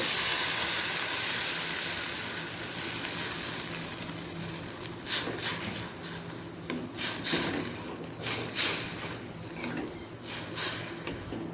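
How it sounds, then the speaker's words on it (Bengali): Water goes into a pan of raw tamarind chutney, starting as a loud, steady hissing pour that fades, then gives way to quieter bubbling and sloshing with scattered clinks close by. "এরপর দিয়ে দিচ্ছি জল"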